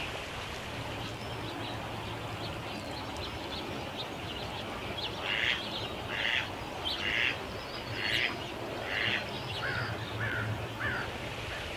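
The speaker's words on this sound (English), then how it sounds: "Lots of crows," Crows cawing outdoors near water with ducks, a series of about eight rhythmic caws in the middle of the clip over a quiet background hum.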